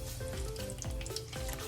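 A tortilla coated in a thin layer of chile fries in a pan, giving a close, steady sizzle with small crackling pops throughout, no voices.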